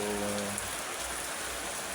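Heavy rain falls continuously as a dense, even wash of noise with a faint low hum fading out early on, and no voices are heard.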